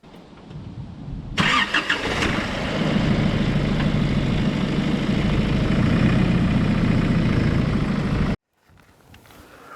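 A vehicle engine starts abruptly and idles steadily and loudly for several seconds as it drives up onto a wooden block, then cuts off sharply.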